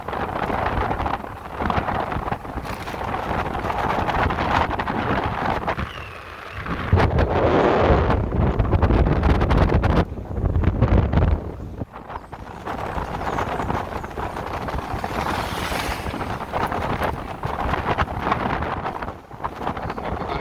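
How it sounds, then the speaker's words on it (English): Strong, steady wind buffeting a microphone during a cold ride on an electric motorcycle in second gear, roaring without a break and swelling into louder gusts partway through. "It's windy."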